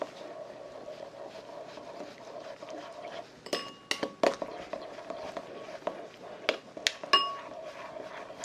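Utensils clink and scrape against a dish while a tuna rice bowl with vinegar is mixed, giving quiet irregular taps and sharper clinks over a steady low background hum.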